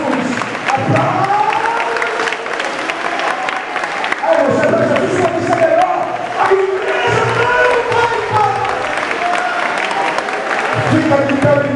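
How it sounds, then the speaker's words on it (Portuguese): A church congregation claps and cheers at an evening worship service, a loud continuous mass of applause beneath a voice leading the crowd, with shouts and a sustained roar throughout. "Aplauda Jesus, aplauda Jesus, aplauda Jesus, aplauda Jesus, aplauda."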